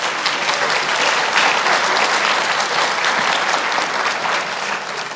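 Steady, dense audience applause at a college continuing education achievement ceremony, loud and even throughout with no break.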